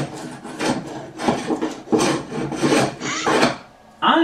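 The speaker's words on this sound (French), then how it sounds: "j'utilise ce qu'on appelle en anglais un block plane ou un rabot à main. Et bien, je peux simplement venir" A hand block plane shaves excess wood off a woven cutting board in repeated rasping strokes, close and fairly loud, each pass a short scraping burst with brief pauses between.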